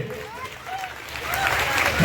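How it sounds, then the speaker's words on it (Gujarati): A crowd at a Gujarati community welcome gathering begins clapping for an honoured guest. The applause swells from faint to fuller over a couple of seconds while someone speaks over it. "આપણે સૌ એમને તાળીઓના નાદ સાથે"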